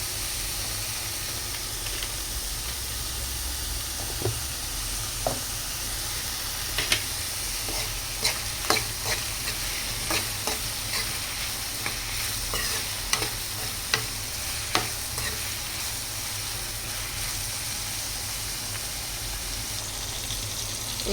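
Onions frying in a pan for a Telangana-style dried fish dish, a constant close sizzle broken by scattered sharp ticks and scrapes of stirring, running steadily with no voices.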